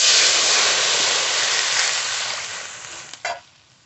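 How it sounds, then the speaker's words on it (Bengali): Water is poured into a hot wok while cooking, giving a loud rushing hiss that slowly fades, then a short splash or clatter near the end. "কড়াইতে জল দেব।"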